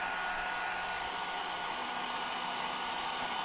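A hair dryer blows steadily and loudly up close over a decorated woodturning piece, a continuous even whoosh with a faint high whine and no talk.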